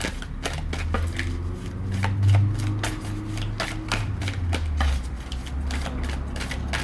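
Tarot cards are shuffled rapidly by hand, a dense run of crisp riffling clicks over a low rumbling hum, with no voices.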